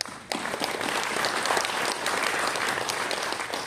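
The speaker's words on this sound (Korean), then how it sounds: "김병철 원장 이승희 목사님께 감사하는 마음과 하나님 앞에 영광의 박수 드리겠습니다" A church congregation gives sustained applause after a sermon, dense and loud clapping from many people that stays steady throughout, with a faint murmur of voices underneath.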